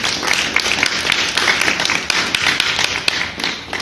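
A church congregation claps and applauds in praise, a dense, loud burst of many hands with sharp irregular taps throughout, close and continuous.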